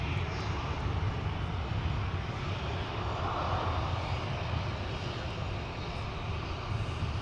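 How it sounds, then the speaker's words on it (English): A Delta Boeing 737-900ER at Minneapolis–St. Paul airport, its jet engines giving a steady, broad roar that holds constant at a moderate distance throughout. "There's the ever-popular"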